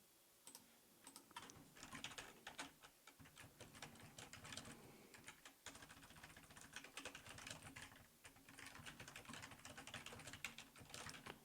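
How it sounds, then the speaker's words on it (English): Rapid typing on an English-layout computer keyboard, continuous quiet key clicks in bursts with brief pauses, close and faint, with no voices. "And I'm just getting back to my normal English keyboard."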